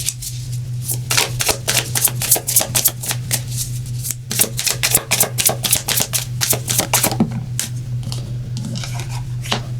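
Oracle cards are shuffled by hand, giving a steady run of crisp riffling flicks close by over a constant low hum.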